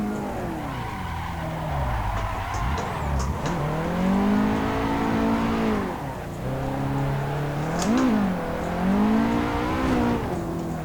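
A racing car engine revs and swoops up and down in pitch while tires squeal in long skids, loud and continuous, with game-like engine tones; a Nissan 180SX drifting in the Assetto Corsa racing game.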